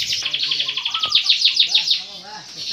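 A small caged canary chirps rapidly in bright, repeated tweets, close by, with a few softer calls trailing off at the end.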